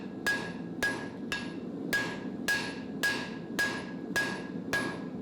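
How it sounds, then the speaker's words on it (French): A blacksmith beats metal flat on an anvil to forge a knife, nine loud, ringing hammer strikes at a steady, unhurried pace, each with a bright metallic ping, close by and with no talking. "on va commencer par faire un plat avec le marteau sur l'enclume."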